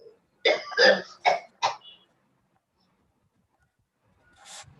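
A lecturer with a fever and cold gives a quick run of four close, loud coughs in a quiet room, then a short throat clearing after a pause.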